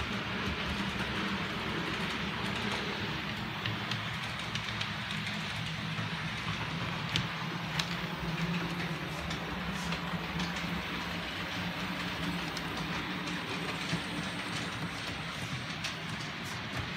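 A model railway train runs steadily along the track at a model layout junction, a continuous rumbling roll with faint rhythmic clicks, fairly close and with no voices over it.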